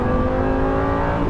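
A Lamborghini 550/2 Valentino Balboni engine revs hard after a heel-and-toe gear change, a dense, sustained, loud mechanical roar heard close with no talking.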